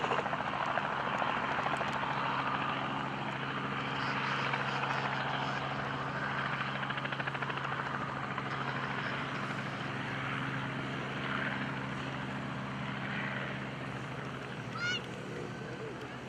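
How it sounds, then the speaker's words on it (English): A military SF-260 propeller airplane drones steadily through aerobatics at an airshow, a sustained mid-distance engine hum that slowly fades slightly. "When you see the SF-260 fly, remember that it is a military airplane."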